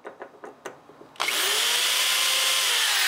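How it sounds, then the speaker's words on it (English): A handheld power drill spins up on center-punched metal after a few light taps, then whines loud and steady at close range until the end. "So if I do this, the drill wanders across."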